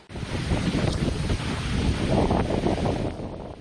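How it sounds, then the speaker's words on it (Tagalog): Strong typhoon wind roars and gusts along a flooded Bicol coastline, a loud, continuous rushing that swells and fades with the gusts. "Rinig din ang pagsipol ng hangin"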